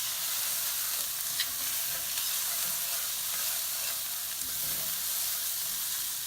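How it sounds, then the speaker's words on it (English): Anchovy fillets and red pepper flakes stirred in a hot pan, giving a steady close sizzle and frying hiss with faint scraping from the stirring, no talk. "Stir that in and get it nice and mixed in."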